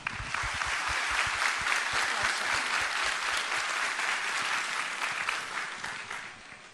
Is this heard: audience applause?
yes